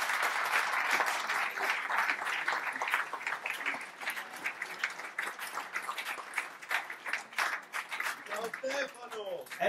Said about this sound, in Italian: vorrei invitare qui Michele Ascolese, per favore, con un grande applauso